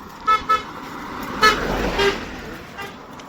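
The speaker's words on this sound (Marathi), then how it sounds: "किती फास्ट गाडी नेला बघा धूळ रोडला फार." On a quiet, dusty road, a car rushes past in a brief swelling whoosh, with a couple of short toots just before it.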